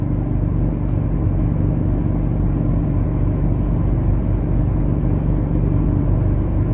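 Heavy car traffic rumbles outside a school in Saudi Arabia at dismissal time, a steady, loud, continuous engine drone with no clear breaks.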